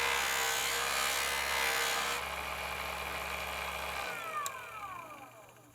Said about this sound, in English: I just hold it right up against the the buff, ever so lightly